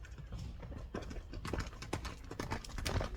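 A calm horse's hooves clip-clop in a steady, close run of hoof falls over outdoor background noise, at a rural horse market in Kyrgyzstan.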